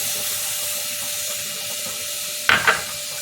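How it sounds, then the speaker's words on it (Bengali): Milk and flour being stirred in a wok for a homemade white sauce for creamy spaghetti: a steady soft hiss, then a brief scraping clatter of the utensil near the end, with no talking. "দিয়ে এটা একটু ভালো করে নাড়াতে থাকছি যাতে ময়দাটা ভালো করে এর সাথে মিক্স হয়ে যায়।"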